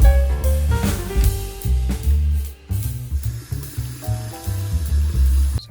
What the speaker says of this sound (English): Sorry for wasting water.